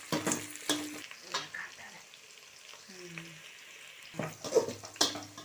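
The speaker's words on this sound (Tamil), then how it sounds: "இப்போ பாருங்கள், வெங்காயம் நல்லா வணங்கிருச்சு." Onions and green chillies fry in a pan for a vegetable biryani, giving a soft, steady sizzle with occasional stirring. It stays quiet throughout, with faint voice-like sounds in the background.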